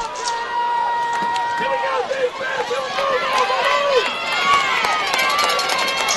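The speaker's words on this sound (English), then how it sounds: "the Titan fans cheer on a 3rd and 8" Home crowd at a high school football game between Buford and North Oconee cheering on a third down, a sustained roar of many voices from the stands, with whistles and shouts rising above it throughout.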